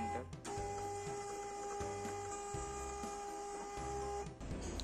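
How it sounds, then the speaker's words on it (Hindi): A TSC TTP 244 Pro barcode printer runs a test page, giving a steady close mechanical whir with a rhythmic pulsing feed motor and a sustained tonal whine for several seconds before stopping. "उसके बाद आपको प्रिंट पे क्लिक करते हैं, तो ये हमारा प्रिंटर"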